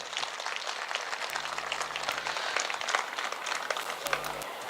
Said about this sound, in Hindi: तो आइए आप सब मिलकर के एक बार जोरदार तालियों से उनका अभिवादन भी करें